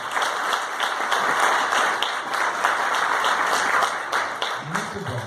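A church congregation applauds together at a prophets' school class, sustained dense clapping throughout with a voice briefly heard over it near the end.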